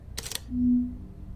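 A camera shutter snaps once in the horror video game Flash and Die, a crisp quick click followed by a soft low tone in a quiet room.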